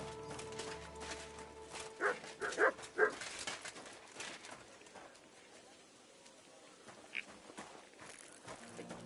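A dog in the video game Kingdom Come: Deliverance 2 gives a few short barks and whines around the two-to-three-second mark among footsteps, then only quiet game ambience follows.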